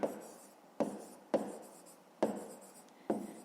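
Pen on paper as someone writes out a fifth-grade math exercise by hand: five sharp scratchy strokes land at uneven intervals, each fading quickly, close and fairly quiet.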